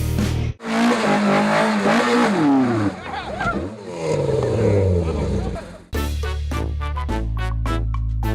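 Formula Inter open-wheel race cars at the Interlagos circuit scream past one after another, their loud engine notes rising and falling as they pass close by, followed by a run of sharp rhythmic pulses.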